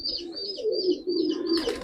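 A pigeon brought from Dera Baba Nanak in Punjab coos close and clear in steady low rolling phrases, with high chirps from other birds overhead.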